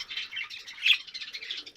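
Shrill, rapid chirping from several small bird chicks, a continuous high twittering close by with no talking.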